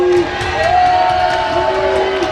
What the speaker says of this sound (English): The crowd gets it going.